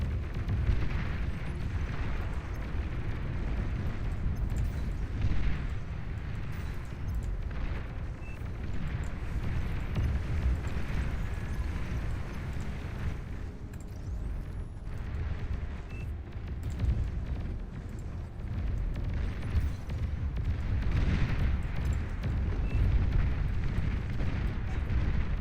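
Commander unit exploding in the real-time strategy game Beyond All Reason: a sustained, heavy low rumble of blasts and booms rolling on amid battle noise, with no speech.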